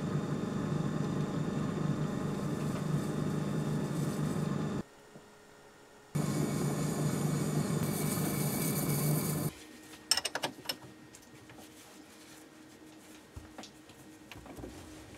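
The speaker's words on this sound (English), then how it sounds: "using progressive passes, the recess was turned out to approximately half a millimetre above the finished dimension" Lathe cutting a recess into the face of a steam engine flywheel disc with 55 degree tooling, a steady loud machining drone with a brief pause, then giving way to quieter scattered clicks and handling noise.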